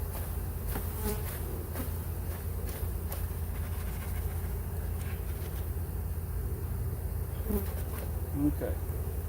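Honeybees from a package buzz and fan at a top bar hive, a dense, steady drone close to the microphone throughout, with occasional soft knocks and handling sounds.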